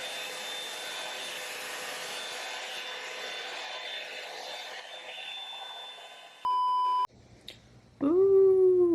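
A Revlon One-Step hair dryer brush runs on 4c hair with a steady whooshing hum for several seconds, then fades out before a short electronic beep and some brief handling sounds.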